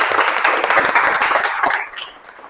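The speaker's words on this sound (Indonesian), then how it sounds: "Berikan aplaus kepada Satria." A classroom crowd of students claps for Satria, steady, dense applause at close range that tapers off and fades out after about two seconds.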